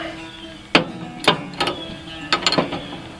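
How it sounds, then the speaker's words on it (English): A ratchet brake wrench tightening a 9/16 bolt during a front disc brake conversion on a 1961 Chrysler, with several crisp clicking ratchet strokes in short bursts, close and alone. "I can use my brake wrench for that."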